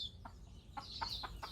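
A chicken gives several short soft clucks in an uneven rhythm, fairly faint and close, over a low background rumble.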